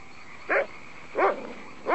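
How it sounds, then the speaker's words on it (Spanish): A dog barks outdoors on a clear night, three separate loud barks spaced about two-thirds of a second apart over a quiet background hiss, with no talk. "Apuesto a que ese perro ha cazado un mapache."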